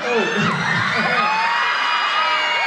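A dense crowd of fans at a Club Media Fest event in Argentina shouts, screams and cheers continuously and loudly, high young voices whooping in a steady roar with no break.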